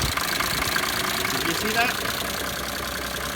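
Engine of an 80s Mercedes-Benz with its cooling fan at startup, a steady broadband whir and rumble holding at a constant level throughout, with a voice speaking briefly over it.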